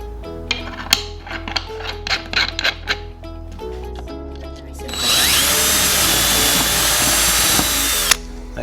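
A power drill cuts a hole in a wooden board for a DIY bench, first in short bursts, then in one loud sustained whine lasting about three seconds, close up with no talk.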